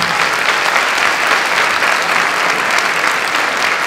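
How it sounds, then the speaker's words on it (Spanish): Loud, sustained audience applause welcomes a guest speaker at a coaching and psychology talk, a dense, steady wash of clapping hands that holds evenly from start to finish. "Señores, recibamos con un fuerte aplauso"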